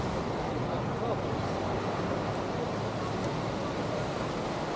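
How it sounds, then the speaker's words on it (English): Ocean waves washing onto Waikiki beach make a steady, low, continuous roar that stays even throughout, with wind buffeting the microphone and no distinct breaks between breakers. "You guys listen to the waves."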